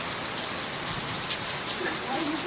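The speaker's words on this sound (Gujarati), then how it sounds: "ઢેબરીયો વરસાદ" Heavy monsoon rain pours down in a steady, dense hiss on surfaces nearby, continuous and even throughout.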